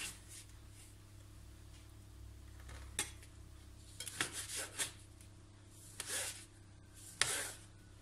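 Knife cutting sugared fruit (plums, sour cherries, peaches) into pieces in a home kitchen, heard as a few close, soft scraping and tapping strokes against a quiet background, with no talking.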